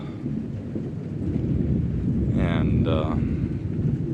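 Steady rain pours outdoors with a deep, continuous thundery rumble beneath it, fairly loud throughout, and a voice speaks briefly partway through.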